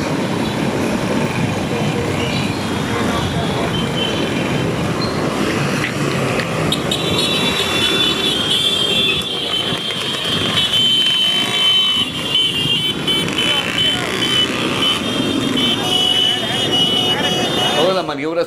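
A gang of motorcycles roars past at close range, engines revving continuously, with a voice talking over the din.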